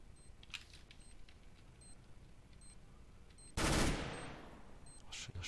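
A single loud gunshot cracks out in Counter-Strike on the de_inferno map during a competitive esports match, a sharp close blast that tails off over a second above a low, steady game background with faint clicks.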